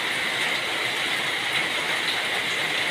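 Steady rain falling continuously at night, a dense even hiss throughout with no talk.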